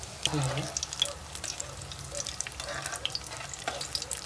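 Egg lollipop snacks fry in oil in a pan over low heat, with a continuous soft sizzle and occasional clinks and scrapes of stirring, close by.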